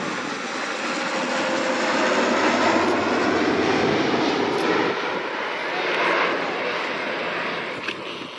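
A Royal Australian Air Force Alenia C-27J Spartan makes a low, dirty pass at an airshow with gear down and flaps set. Its engines give a loud, steady roar that swells slightly mid-pass and holds close throughout.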